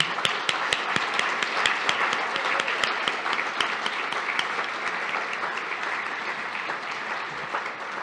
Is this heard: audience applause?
yes